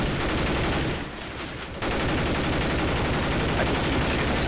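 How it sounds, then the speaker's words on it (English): Dense, continuous gunfire from a zombie shooter game, an unbroken wall of rapid shots with one brief dip, loud and close, with no clear talk over it. "I can keep shooting this gun forever because of how quiet it is, bro."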